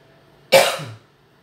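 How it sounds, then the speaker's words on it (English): A single loud, close cough bursts out sharply and fades within about half a second, partly muffled as if shielded, with no talk around it. "I feel a cough coming, hang on."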